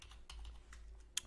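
Typing on a computer keyboard, several separate light key clicks in an irregular rhythm, close and fairly quiet, with one sharper final keystroke and no talking.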